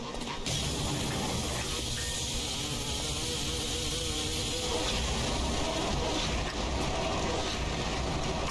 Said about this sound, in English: The bees inside are not attacking them.